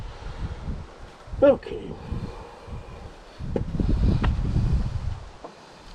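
Wind gusting across the microphone at an outdoor welding job on a wheel loader, a low rushing roar that swells and fades, loudest in the second half, with a brief word spoken early on.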